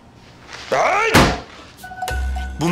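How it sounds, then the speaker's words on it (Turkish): A sharp, loud thud of a hand slamming down on a table, one hit mid-clip between bursts of speech. "Elini masaya bir erkek gibi vuracaksın böyle."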